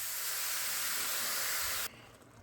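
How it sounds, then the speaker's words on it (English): Two pounds of hamburger beef browning in a pan for copycat Wendy's chili, a loud steady hiss of sizzling meat that cuts off abruptly near the end, leaving quiet room tone. "while you are browning the beef"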